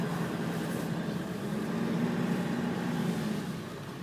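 A 1999 Ford F250 with a 7.3L diesel engine on the move, a steady low engine drone and road rumble heard from inside the cab, even and moderate without revving.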